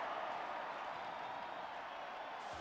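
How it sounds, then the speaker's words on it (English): A stadium crowd at the 2000 Apple Cup college football game between Washington and Washington State cheers after a Cougars field goal, a dense, steady roar that holds level for a few seconds. "They're going to cheer from the crowd."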